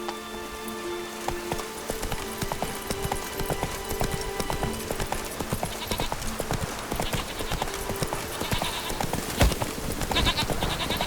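Roach, Geralt's horse in the video game The Witcher 3, gallops with a steady, rapid clip-clop of hooves, loud and close, over a layer of ambient game music and environmental noise.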